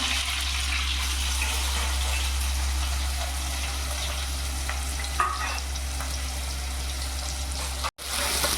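Curry leaves and chopped onion fry in hot oil with cumin for a spicy moong dal, giving a steady, close sizzle that runs through the clip with a few soft stirring knocks and no talking.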